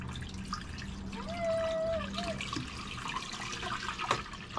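Water trickles and splashes steadily into an aquarium tank inside an aquarium store, with a brief tonal squeak and light background clatter over the continuous pour.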